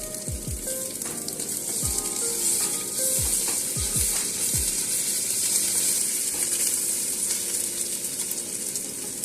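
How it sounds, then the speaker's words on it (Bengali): Ginger garlic paste with browned onions sizzles in a pan, a steady loud hiss with a few low knocks of stirring, no speech. "আদা রসুনের পেস্টটা আমার কষানো হয়ে গেছে।"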